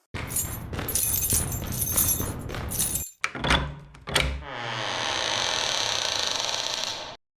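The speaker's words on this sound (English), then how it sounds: "he's already got the keys to unlock the door" Metal keys rattle and clunk in the lock of a heavy vault door, a busy jangle followed by a couple of sharp mechanical thunks, then a steady rushing hiss as the door opens.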